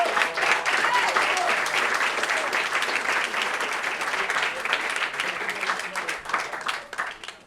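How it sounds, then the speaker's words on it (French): An audience applauds Frédéric Loisan as he heads to the stage, with sustained loud clapping from a full room that slowly thins out toward the end. "donc on va l'applaudir et il va monter sur scène."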